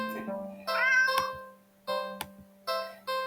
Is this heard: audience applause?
no